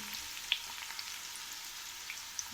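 Onion and tomato paste for paneer curry frying in a pan, a soft steady sizzle with occasional small pops and crackles, close and quiet.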